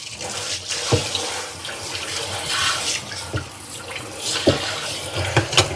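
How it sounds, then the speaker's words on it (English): Cold water runs steadily from a kitchen tap into a sink, a continuous broadband splashing rush with a few louder thumps and clatters of items being handled nearby. "Okay, I got the cold water running."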